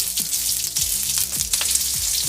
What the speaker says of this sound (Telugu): ఇప్పుడు ఎర్రగడ్డ వేసుకుంటాము.